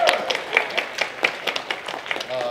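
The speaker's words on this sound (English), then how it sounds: "Can we have a round of applause for the convention staff who are doing this?" A convention audience applauds the event staff at a panel, scattered hand claps that come in quick uneven bursts, fairly close and lively, then thin out after a couple of seconds.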